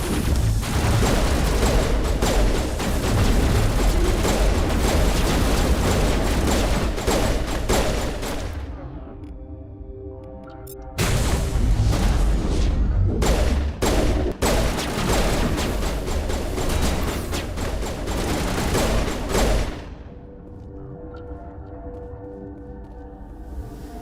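Gunfire from weapons in a Mass Effect lab firefight on Noveria, dense and continuous bursts of shooting that break off briefly midway, then resume before cutting to quieter sounds.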